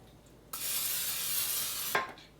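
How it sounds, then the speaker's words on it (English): Non-stick cooking spray hisses from a can into a soufflé baking dish in one steady burst of about a second and a half, close and clear, with no talking. "I'm going to line the baking dish with just a little bit of non-stick."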